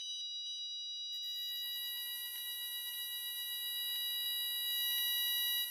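A VELA Lumina fire alarm system sounds its evacuation alarm, a loud, piercing continuous electronic tone with repeated pulsing accents that starts abruptly and holds steady, with no talking.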